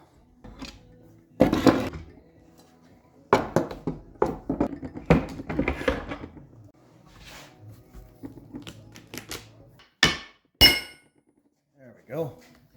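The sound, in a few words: removing clamps from glued wooden cutting board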